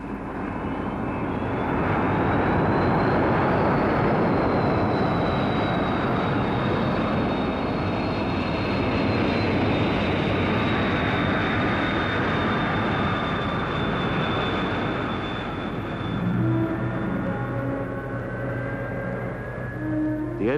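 XB-70 jet bomber roaring in flight at full power, a loud continuous engine rush with a whining tone sliding slowly downward, sustained for the whole stretch before shifting near the end.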